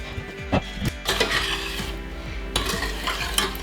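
A herring marinade being stirred in a small saucepan, with a spoon scraping and knocking against the metal in repeated strokes and a faint bubbling hiss beneath, close and steady.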